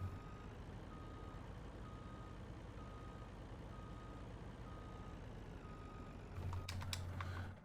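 A truck in the Farming Simulator game, Great Smoky Mountains map, drives with a steady engine drone while a reversing beeper pulses at regular intervals, with a few clanks and a louder rumble near the end.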